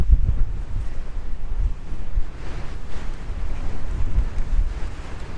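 Strong gusts of up to 40 mph and more push against an MSR Tindheim 2 tent at a storm-battered campsite, producing a steady, heavy low roar with surging buffets, close and without talk.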